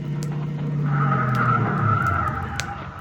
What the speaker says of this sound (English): Here comes a couple of cars.